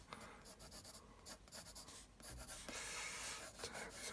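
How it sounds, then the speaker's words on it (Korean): A pen-style mechanical eraser rubs out pencil marks on paper up close: soft, scratchy short strokes in quick bursts give way to a longer continuous rub, all quiet and without speech. "밝은 거 표현할 때는 비장의 무기인 샤프형 지우개가 있습니다"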